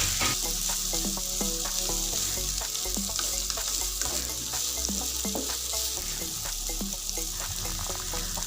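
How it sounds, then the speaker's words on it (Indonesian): Red and green chilies stir-fry in a hot pan with a constant loud sizzle, while a utensil scrapes and taps the pan in an irregular rhythm. "cabai merah, cabai hijau, kita aduk-aduk rata, kita biarkan sampai layu ya."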